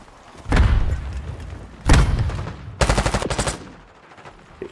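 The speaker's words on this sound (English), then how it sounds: "Amaru shot me." Gunfire in Black Ops 6: two heavy single shots followed by a rapid burst of about eight rounds, loud and close, then fading to quiet.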